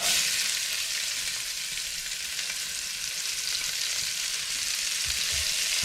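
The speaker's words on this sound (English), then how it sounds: "Now I'm going to fry off the onions." Onions fry in a pan in beef rib juices, a constant bright, crackling sizzle held at steady loudness, close up with no voices.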